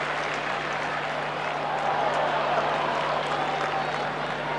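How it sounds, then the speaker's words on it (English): The crowd at the MCG during a 1990 AFL match between Melbourne and Essendon cheers and claps as a broad, sustained roar from a large stadium, with no commentary over it. "And the crowd reacts again as they watch it on the big colour scoreboard at the MCG."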